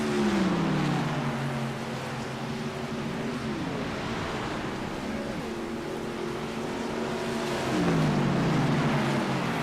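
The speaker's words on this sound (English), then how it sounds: "These guys are cutting the throttle so much" Racing trucks on the Atlanta track in a racing video game, engine tones swooping down as drivers cut the throttle and coast, several passes overlapping under a steady roar.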